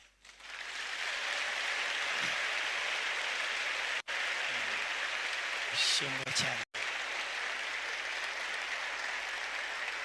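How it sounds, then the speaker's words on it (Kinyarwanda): A church congregation bursts into sustained, loud applause that fills the room, with brief cut-outs, while a voice speaks over it partway through. "Mumpere Yesu amashyi wazutse."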